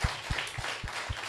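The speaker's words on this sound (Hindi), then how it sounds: "आपकी तालियों में अभी भी आवाज कम है" Scattered clapping from a church meeting audience, a few separate claps spaced about a quarter second apart, fairly close and light, with no voices over it.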